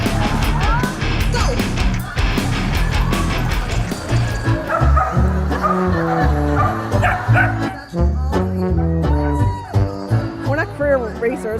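Dachshunds bark and yip at a wiener dog race, many dogs barking over each other in a dense, loud chorus with whimpers, while a crowd chatters and shouts in the background.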